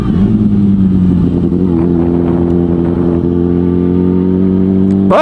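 A motorcycle engine idles loud and close with a steady low rumble, then rises in a sharp rev right at the end.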